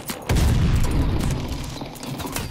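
A grenade explodes in a Call of Duty Vanguard team deathmatch with a sudden heavy boom after a brief lead-in, then a loud rumbling tail that slowly fades, close and powerful, with no talking.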